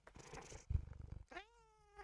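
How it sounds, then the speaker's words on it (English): A cat held up close to a microphone purrs steadily, then lets out a single drawn-out meow near the end, loud and close with no talking. "You wanna give him meows?"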